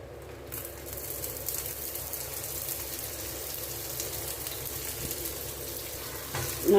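Ceylon roti, onion and coconut varieties, cooks slowly on a hot pan, giving a soft, even sizzle like light rain that holds steady at moderate volume, with a louder knock right at the end.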